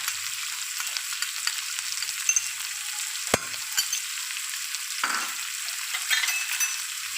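Chicken for jalfrezi sizzles steadily in a hot pan as chicken powder and paprika are added, a bright hiss with light stirring scrapes, one sharp clink and a brief louder burst partway through, no talking.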